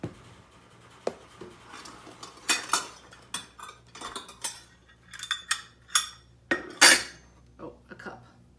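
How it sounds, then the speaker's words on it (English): Sugar being scooped and measured for banana bread in a home kitchen comes through as a run of close clinks and scrapes from a measuring cup and utensils against a container, in an uneven rhythm with no talking. "So Sophie, can you measure out a cup of sugar?"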